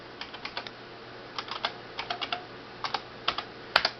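Keys on a tiny computer keyboard with shallow, hard-to-feel travel are pressed in short bursts of soft clicks and taps, close by and alone, with a sharper click near the end.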